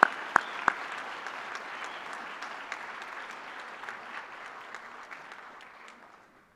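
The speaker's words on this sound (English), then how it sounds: "Big round of applause for our health science students" An audience at a National Technical Honor Society induction ceremony applauds health science students, a soft, distant patter of many hands with a few sharper claps at the start, slowly thinning out.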